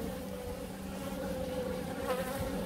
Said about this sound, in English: Move these bees out of the way.